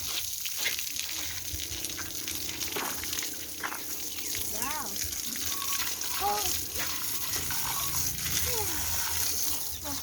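Water gushing hard from a hose during a car wash, a steady loud rushing flow throughout, with brief chirps and noises over it.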